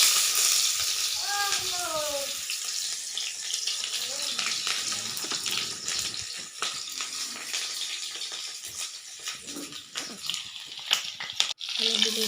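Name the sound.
broiler chicken meat frying with ginger garlic paste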